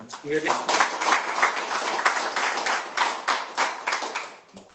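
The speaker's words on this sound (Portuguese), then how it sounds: "Aplauda ao Senhor." A church congregation claps together, a steady scattered patter of many hands filling the room at moderate loudness, with voices heard over it throughout.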